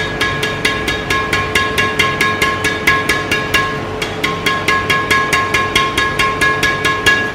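A Yonex Arcsaber 11 Play badminton racket's strings are plucked over and over, giving a fast, even series of sharp, ringing pings heard close and loud, with a short pause partway through.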